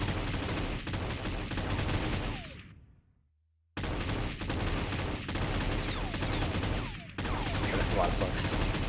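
Rapid bursts of turret gunfire ring out in a VR space combat game, dense repeated shots in long volleys, broken by one brief silence, loud and without talk.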